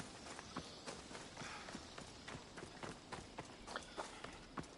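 A horse gallops in Assassin's Creed Odyssey, quick rhythmic hoof clops pounding steadily along at moderate volume over a faint game background.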